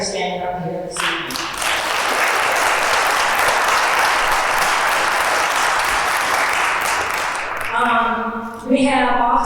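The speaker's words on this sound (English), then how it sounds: "I want us all to give a round of applause to the folks that are standing up here this evening." Applause for two police officers at a community safety meeting, a loud continuous crowd clapping that swells in after someone speaks and fades as he resumes talking at the end.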